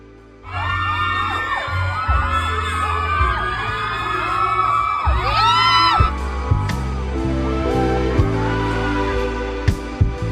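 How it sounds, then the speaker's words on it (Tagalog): A loud crowd whoops, screams and applauds as Kim Chiu and Paulo make a grand entrance with their cast at a watch party. Shrill shouts rise over continuous cheering, with occasional sharp bangs. "Sinalubong din sila ng malalakas na hiyawan at palakpakan."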